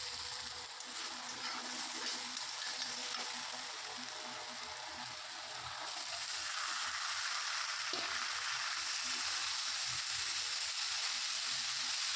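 Boiled food frying lightly in a pan with onion, tomato and green chilli, a soft continuous sizzle and crackle with faint stirring, growing slightly louder partway through.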